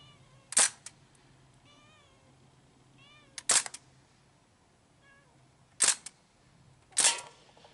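A Crosman DPMS SBR BB gun fires on semi-auto at cans, giving four sharp, separate cracks spaced a few seconds apart, close and loud, with faint whistling chirps in the quiet gaps.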